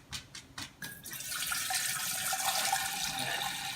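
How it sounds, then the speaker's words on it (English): Home-brewed IPA pours into a jar, a broad steady rush of liquid filling and sloshing close by after a few brief splashes at the start, continuous and fairly loud with no talking. "I'm just going to start pouring this in and see if I can get it to slosh around inside the jar"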